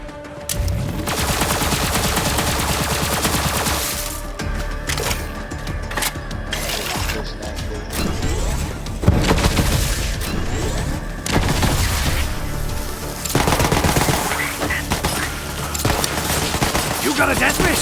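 Legendary weapons firing in Borderlands 3, dense rapid bursts of loud gunfire and booming impacts nearly continuous throughout, with game sound effects layered in and occasional voices.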